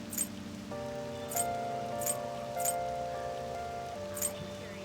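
Steady rain patters in Persona 5 Royal, a soft continuous wash beneath sustained game music tones, with a few brief sharper ticks recurring at intervals.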